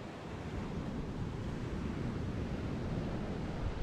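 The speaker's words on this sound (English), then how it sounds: "And the waves are, you know, they're coming up the bay." Surf from the Bay of Fundy rolls against the shore of a small cove, a steady broadband wash with wind buffeting the microphone, continuous and fairly close with no voices.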